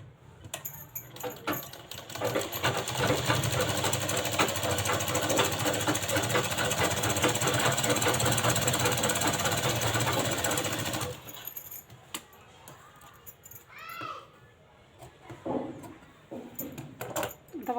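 A sewing machine stitches a cross strip onto a lined blouse, a loud rapid mechanical rattle running steadily for several seconds, then stopping, followed by quieter handling noises and brief talk.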